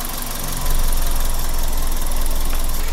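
A car engine idles steadily up close; when the oil filler cap is opened, the idle shifts and settles into a slightly lower, rougher hum that continues to the end.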